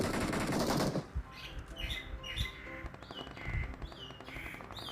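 Gunfire in the PUBG Mobile battle royale game: a dense burst of automatic fire in the first second, then scattered single shots amid game sounds and bird-like chirps.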